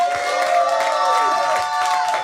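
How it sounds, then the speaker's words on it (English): A crowd claps and cheers loudly, with steady applause filling the room and voices mixed in. "One more round of applause for Miss Redacted, everybody."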